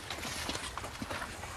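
Horse hooves clip-clopping on a road in rural France, a fairly quiet, steady run of sharp hoof strikes at walking pace, close by and heard alone.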